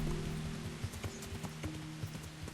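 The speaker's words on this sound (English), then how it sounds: "Looks like the rain is letting up just a bit." Rain patters steadily in Kingdom Come: Deliverance, a soft hiss with scattered drops, while a horse's hooves clop irregularly nearby and a low tonal hum runs underneath.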